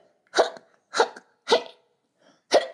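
A child's loud attack of hiccups at a quiet party, four sharp, evenly spaced gulping hics, each a short bright burst followed by silence, with no talk over them.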